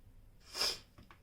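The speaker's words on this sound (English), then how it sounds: "excuse me because I'm going to sneeze" A single sharp sneeze bursts out near the middle, quick and moderately close, then a brief breathy sniff follows in an otherwise quiet room.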